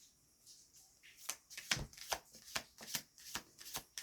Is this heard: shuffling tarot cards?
yes